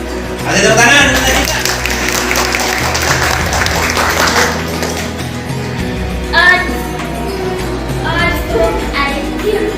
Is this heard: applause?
yes